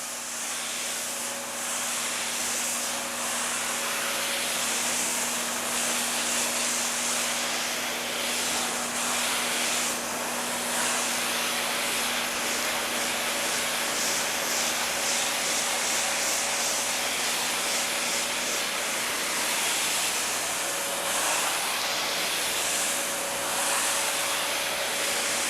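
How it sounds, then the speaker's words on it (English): Carpet extractor running with both vacuum and spray injection on, a loud continuous roaring hiss with a steady whine that holds unchanged throughout, no voices. "I'm gonna go ahead and fire on the vacuum function. Fire on the injection function."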